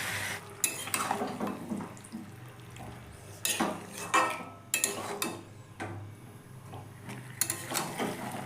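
A utensil stirs and scrapes chicken in a kadai, producing irregular metallic clinks and scrapes over a soft background sizzle, fairly quiet and close.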